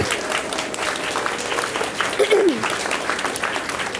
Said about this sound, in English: just give them a grand applause